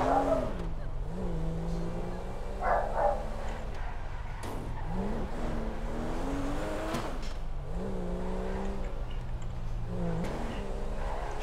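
Car engine in the video game GTA 5, revving up and easing off in repeated rising and falling sweeps, steady and continuous throughout with no talk over it.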